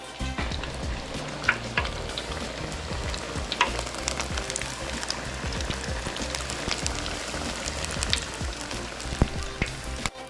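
Cronut dough fries in hot oil with a dense, steady crackling sizzle, close and continuous, with scattered sharper pops throughout.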